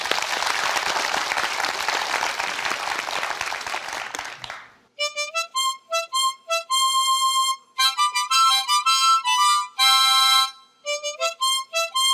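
A studio audience at a Korean high-school quiz show claps in a dense burst of applause for a few seconds, which then cuts to music.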